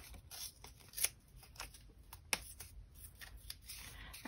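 Book pages torn by hand in short papery rips and rustles, with two sharper tearing snaps standing out, quiet and close with faint room noise behind.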